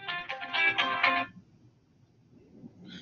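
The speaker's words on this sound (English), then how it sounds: "I don't know why my phone is going off." A phone ringtone rings loudly for just over a second, a bright electronic melody that then cuts off, leaving quiet room tone before a brief return of the tone at the end.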